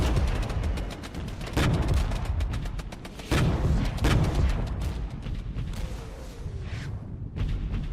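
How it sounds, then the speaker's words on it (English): Booming gunfire and artillery-like blasts rumble through a battle in the strategy game Regiments, with repeated loud shots coming from a ridge amid continuous heavy combat noise. "we're being shot from that ridge on the left"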